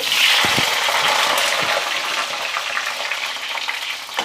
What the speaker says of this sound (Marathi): आता यामध्ये आपण हे वांगे घालायचे आहेत यामध्ये आता हे वांगे घालूयात